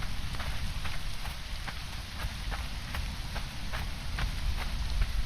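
Steady heavy rain hisses in a Conan Exiles storm, dense and continuous across the whole stretch, with faint drop patter over a low rumbling wash and no voices.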